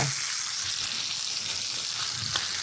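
Beef rib steak sizzles steadily in a hot pan with butter, thyme and garlic, a continuous close frying hiss with small crackles and no talking.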